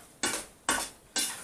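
Chicken and sausage pasta with sweet corn and peas being stirred in a pan: three separate scraping, rustling strokes about half a second apart, each sharp at the start and then fading, close by with no talk.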